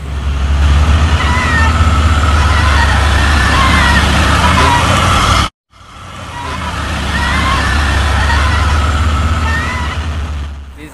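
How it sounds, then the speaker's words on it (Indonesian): A container truck labors up the steep Bukit Kodok hill, its engine a loud, sustained low rumble with a brief cut midway, while people talk nearby. "Di sana truk kontainer yang mendaki tanjakan Bukit Kodok"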